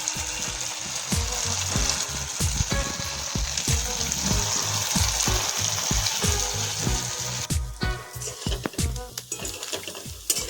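Chhana koftas frying in hot oil in a pan, a steady loud sizzle with repeated clinks of a utensil stirring and turning them throughout.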